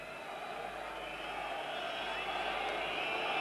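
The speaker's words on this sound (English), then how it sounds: "An absolutely tremendous atmosphere and a huge crowd at Central Park today." Broad, continuous crowd noise rises gradually from a packed Central Park stand at the 1994 Leeds versus St Helens rugby league Challenge Cup semi-final, a dense distant murmur with no clear individual voices.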